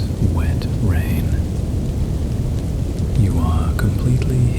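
A thunderstorm rumbles low and heavy beneath continuous wet rain, a dense and steady wash. Soft voice-like tones drift above it, with no clear breaks.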